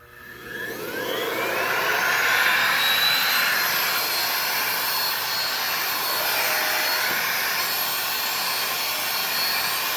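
A Miele vacuum cleaner starts up and quickly rises to a loud, steady whine with a rushing airflow roar, running continuously nearby.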